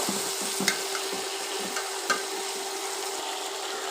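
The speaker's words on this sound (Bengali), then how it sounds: "এই আলুগুলো একটু ভাজা ভাজা করে নেব" Small potatoes fry in a pan with a steady, close sizzle, broken by a few sharp scrapes and clinks as they are stirred; no voices.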